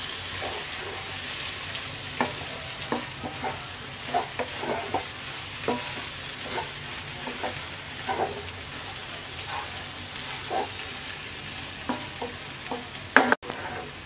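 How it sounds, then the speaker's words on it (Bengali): Egg stirred and fried in a pan with red lentils and chopped papaya: repeated scraping spatula strokes over a low, steady sizzle, close and alone with no voices. "দু মিনিট পর এবার আমরা ডিমটাকে ভালো করে মিশিয়ে নেব।"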